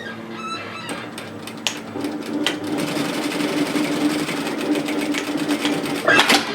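A sewing machine runs steadily, edge stitching the folded tail of a fabric scrunchie, with a few light clicks at the start before a continuous whirring stitch rises and holds close by.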